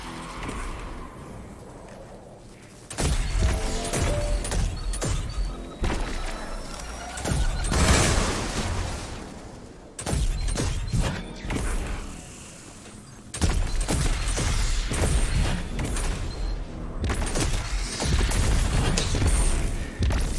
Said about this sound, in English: then you'll get the Graviton Lance explosions to proc